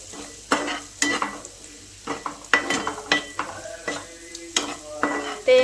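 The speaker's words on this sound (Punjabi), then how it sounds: "ਹੁਣ ਆਪਾਂ ਇਹਨੂੰ ਚੰਗੀ ਤਰ੍ਹਾਂ ਮਿਕਸ ਕਰ ਲਾਂਗੇ ਮਸਾਲਿਆਂ ਨੂੰ" Spices and coriander powder are stirred in a sizzling frying pan while making besan bhurji. A spoon scrapes and knocks against the pan in repeated strokes over a continuous fry, with no talk.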